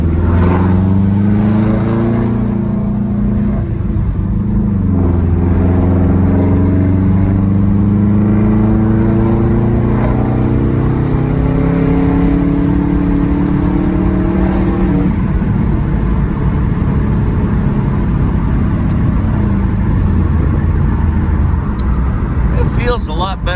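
A used 2005 Subaru's engine on a test drive, a steady close drone rising and falling gently in pitch at low throttle, loud and continuous inside the cabin.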